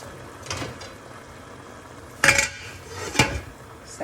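A utensil turning rice in a cooking pot: a few sharp metallic clanks and scrapes against the pot, spaced apart over a low background hiss.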